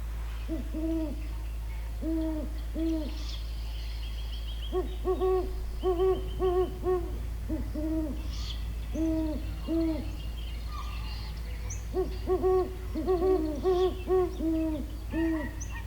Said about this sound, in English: They make a familiar deep hooting call at any time of the night.